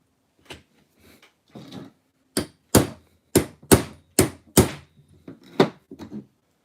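A stuck pinch bolt on an HPI Savage XL RC car is struck with about ten sharp, close metallic hammer blows in an uneven rhythm, some quick pairs and single hits, with short pauses between.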